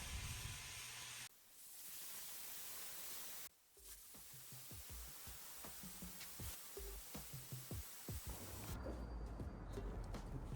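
A paint sprayer hisses steadily while laying a fine top coat on a nightstand, a broad continuous spray broken by brief pauses and followed by light clicking and handling noises.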